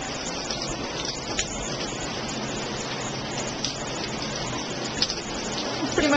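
Steady, dense rain falls under an overhead storm cloud in Arizona, a continuous broadband hiss of drops striking surfaces with water collecting and running, near and even in loudness throughout with no voices.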